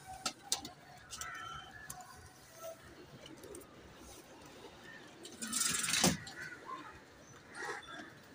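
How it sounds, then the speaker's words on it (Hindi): Soft coos of Saharanpuri Bullet pigeons repeat now and then against a quiet outdoor background, with a few brief rustles and a louder burst near the end. "सबके बीच में मैरों वाले कबूतर है"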